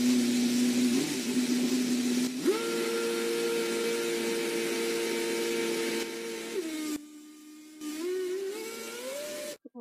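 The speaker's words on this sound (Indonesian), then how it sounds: "ini adalah lomba balap mobil Formula 1" Formula 1 race cars racing on a track, a loud sustained high engine whine that holds steady, jumps in pitch, drops briefly, then climbs again as a car passes close.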